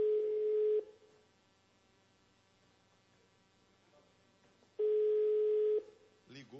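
An outgoing telephone call rings back, two long electronic ring tones separated by several seconds of near silence with a faint line hum, heard close and steady before a voice begins at the end.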